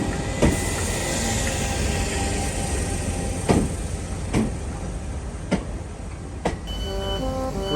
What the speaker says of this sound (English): This is my last ride on a 313.